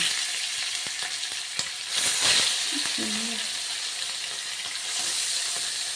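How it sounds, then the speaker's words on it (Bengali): Rupchanda pomfret fish frying in hot oil, a loud, dense hiss that swells briefly midway as the fish goes into the pan, with a short clatter, heard close up and without talk. "এবার আমি মাছগুলি ভাজতে দিয়ে দিচ্ছি"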